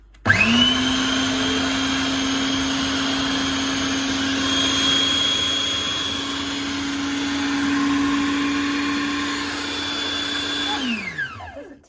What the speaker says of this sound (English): It's just a very small food processor